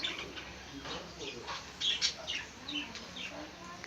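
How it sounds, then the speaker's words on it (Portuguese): A pair of budgerigars chirp in a large aviary, with quick bright twitters and short calls repeating against a steady background hiss. "Um casal de periquito australiano"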